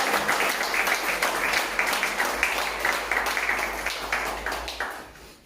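A church congregation applauding during a French-language worship service, a steady burst of many hands clapping that holds for several seconds, then fades out.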